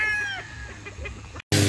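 A one-year-old Duke Hulsey lemon gamefowl rooster clucks and calls close by, with a drawn-out call early followed by shorter clucks, then a brief gap and a burst of noise at the end.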